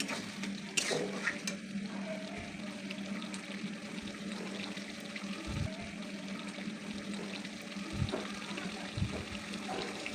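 Water pours into a pot of cooking chicken curry, a steady splashing gush over a continuous simmering hiss, with a few light knocks.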